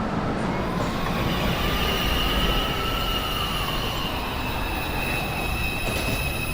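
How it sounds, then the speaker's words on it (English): An R142 or R62 New York subway train rolls into 207 Street station, a steady loud rumble of wheels on rail with a long squealing tone riding above it throughout. "Approaching the station, please stand away from the platform edge."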